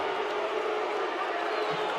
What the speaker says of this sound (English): the locals at Freedom Hall, pretty good crowd on hand today, vehemently disagreeing with that decision